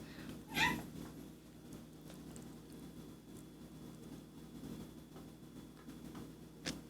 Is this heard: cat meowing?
yes